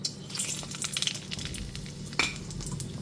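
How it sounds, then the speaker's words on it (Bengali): Whole spices, bay leaves, dried chillies, cinnamon and cloves, frying gently in hot white oil over a low gas flame, a soft steady sizzle with faint stirring clicks and a brief metallic scrape. "গ্যাসের ফ্লেমটা লোতে রেখে ফোড়নটা হালকা করে ভেজে নিচ্ছি"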